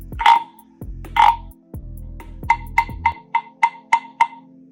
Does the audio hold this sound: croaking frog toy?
yes